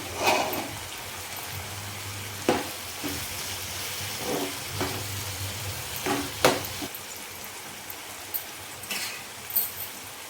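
Ivy gourd cooking in a pan, a soft continuous sizzle broken by periodic scraping and clatter as it is stirred with a spoon.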